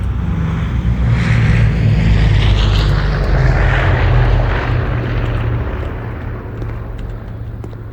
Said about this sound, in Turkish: uçak geliyor bomba atıcı